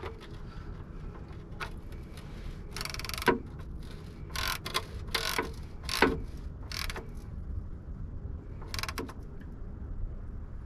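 Metal mechanism clicks and ratchets in short bursts as a bolt is tightened on a tow truck motor, each burst close and crisp over a low steady background hum, with no speech.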